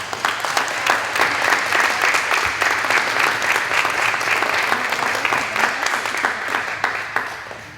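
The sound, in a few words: audience applause at honor society induction ceremony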